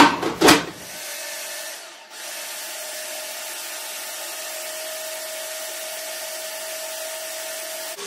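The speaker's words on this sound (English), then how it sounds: "I'm going to get the lid on the food processor" A food processor blends chili bean soup ingredients. A brief clatter as the lid goes on is followed by a steady, loud motor whir that runs evenly to the end.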